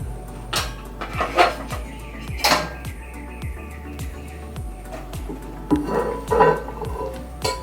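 A tray of baked macaroni goes into an oven preheated to 160 degrees, with several sharp metallic clanks and rattles of the pan and rack, spaced irregularly with quiet gaps between.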